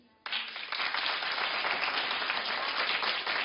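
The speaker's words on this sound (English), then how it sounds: "Clap if you do." A studio audience on a talk show bursts into sustained applause after a brief quiet start, a dense wash of clapping that holds steady to the end.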